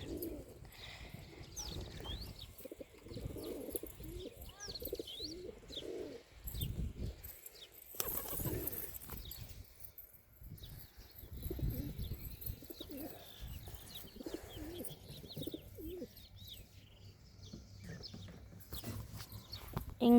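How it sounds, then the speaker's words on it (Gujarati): Pigeons coo in soft, repeated low rounded phrases with pauses between them, and brief chirps and light rustling are mixed in, all fairly faint in a calm outdoor setting. "જોયું મિત્રો આપણા કબૂતરા છે."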